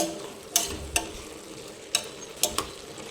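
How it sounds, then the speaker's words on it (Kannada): Vegetables and tomato frying in a pan give a steady low sizzle, broken by a few sharp clicks and scrapes of stirring spread across the moment, with no voices. "ಈಗ ತರಕಾರಿ ಫ್ರೈ ಆದಮೇಲೆ ಟೊಮೊಟೊ ಹಾಕ್ಕೊಂಡಿದ್ದೀನಿ."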